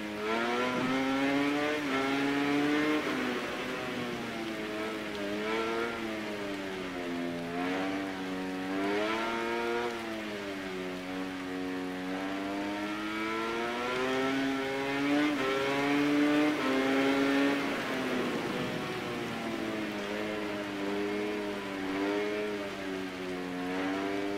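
A motorcycle engine in MotoGP 19 revs steadily under gentle throttle, its rising and falling whine sustained and continuous throughout, with no voices.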